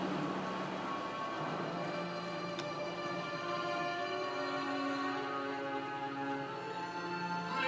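A settled, steady rain falls in water-filled trenches, a soft continuous hiss behind faint sustained tones, fairly quiet and unbroken.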